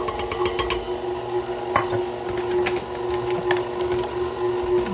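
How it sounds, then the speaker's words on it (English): An electric kitchen mixer whirs steadily through gingersnap cookie dough, a constant motor hum with faint clinks and taps of the bowl and beater and a brief change in pitch as it shifts speed; no one speaks. "You heard my mixer kind of shift gears there."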